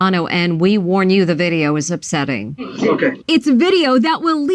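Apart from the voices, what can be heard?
No distinct noise like a dog, phone or traffic.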